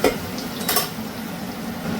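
Chicken being stirred in a frying pan at home, a spicy oily dish: a spoon scrapes and clinks against the pan over a low, steady sizzle, with one brighter clink near the start and another just under a second in.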